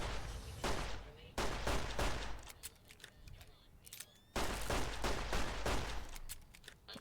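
Rapid bursts of gunfire in the video game Fallout: New Vegas, loud and close, with repeated shot volleys separated by short pauses and a sharp renewed burst near the end.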